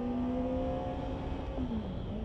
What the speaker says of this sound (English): The engine noise and the brakes together,